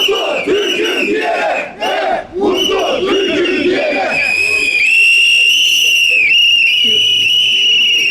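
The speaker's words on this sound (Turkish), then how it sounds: "pankartlarla "Yaşasın 1 Mayıs" sloganları atarak yürüyüşe geçti" A crowd of May Day marchers in Bolu chants slogans together, loud and continuous, with a shrill whistle sounding over the chanting in the second half.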